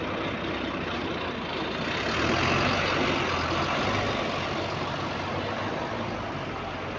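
A London Wright bus fitted with a Voith DIWA gearbox drives past close by, a loud, steady engine and transmission roar that swells briefly midway, with no one talking.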